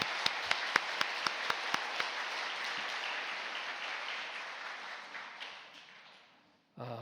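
A church congregation claps, opening with a few sharp rhythmic claps before swelling into broad sustained applause that gradually fades out near the end.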